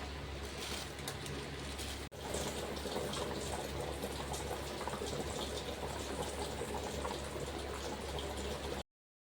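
Water boiling in a pot for prawn biryani, steady rushing, bubbling noise with a low hum underneath, continuous apart from a brief dropout, no talking.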